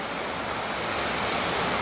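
Rain pours onto the ground above underground collection tanks, a loud dense continuous hiss with no speech.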